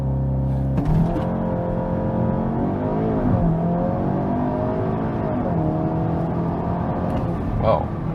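A Cupra Ateca Limited Edition, all-wheel drive, launches hard under launch control, its engine roaring steadily and climbing through the gears for about eight seconds as a voice talks over it.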